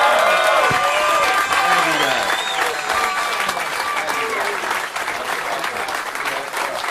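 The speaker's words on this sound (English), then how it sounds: "Give him a nice round of applause." A comedy audience breaks into a strong round of applause and some cheering, loud and close at first, then tapering slightly while the clapping continues to the end, with a voice briefly heard over it.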